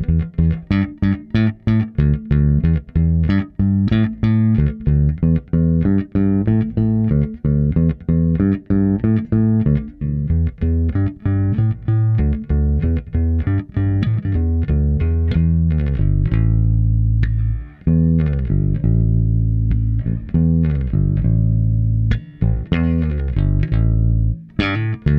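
A Fender Custom Shop Empire 58 P Bass plays a clean-toned steady run of plucked notes, bright and sustained, with a brief pause near the end before the line resumes.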